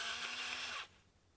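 A Russell Hobbs electric salt and pepper grinder runs with a steady high motorized whirr for under a second, then cuts off abruptly to quiet.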